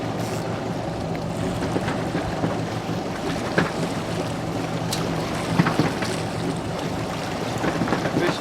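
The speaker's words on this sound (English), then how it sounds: "So I just put my starboard engine in gear." A sportfishing boat's starboard engine drones low and steady while trolling offshore for tuna, with wind buffeting and waves washing alongside. Occasional clicks and knocks come through the rumble.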